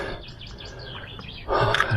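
Small birds chirp and sing outdoors along a walking path in the village of Novy Svet, light and fairly distant, before a louder rustling noise joins near the end.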